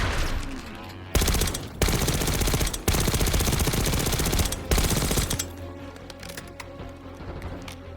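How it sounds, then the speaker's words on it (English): Call of Duty: Black Ops 6 light machine gun fires in loud, rapid sustained bursts, several long strings of shots separated by short pauses, then a quieter tail of scattered distant shots. "This is a light machine gun."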